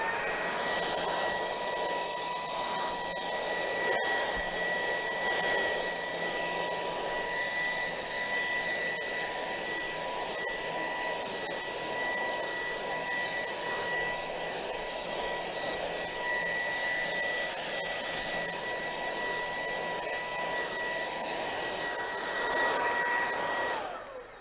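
A BVILY cordless vacuum cleaner running in turbo mode, a loud continuous high-pitched motor whine with a steady airy rush that holds evenly for the whole stretch before cutting off, with no talking.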